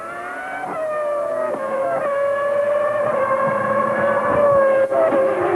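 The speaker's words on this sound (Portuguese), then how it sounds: "Aí o Mika Hakkinen fazendo mais uma ultrapassagem, agora deixou o carro da Prost para trás." Formula 1 race cars at the 1999 Austrian Grand Prix scream past at high revs, a loud sustained engine whine with shifting pitch and gear changes, no voices present.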